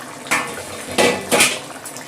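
A metal lid lifts off a pot of chicken cooking on low heat, giving a few sharp clanks and scrapes against the rim over a soft steady background hiss.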